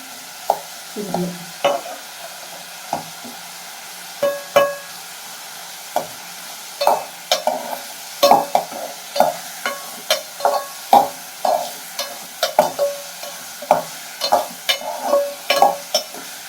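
Bottle gourd koottu ingredients sautéing in a pan, a spoon scraping and tapping in quick irregular strokes over a soft background sizzle, close up with no voices.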